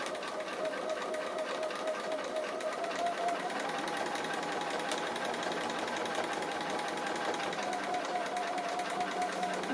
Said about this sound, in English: Stitching fairly close to those edges